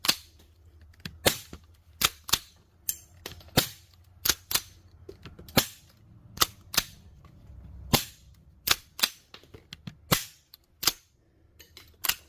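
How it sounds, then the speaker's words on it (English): An airsoft Stevens visible loader gun fires and ejects repeatedly, giving about seventeen sharp, close snaps at uneven intervals, each a crisp crack that dies quickly into near silence, with no talking. "getting this Stevens visible loader to work. And you can see why they call it a visible loader. And fire, ejection, and load,"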